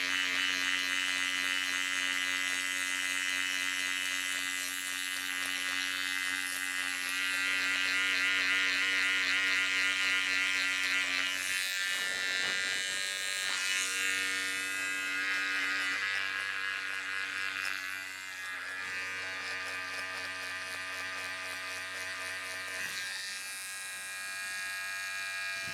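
Electric hair clipper buzzing steadily and close during a self-cut low taper haircut, a continuous motor drone with slight shifts in pitch as it passes over the head, no talking.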